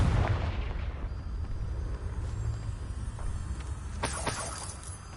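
A Confringo fire spell explodes in the Hogwarts Legacy video game, a deep rumbling boom up close with sharp crackling bursts near the end, no voices over it.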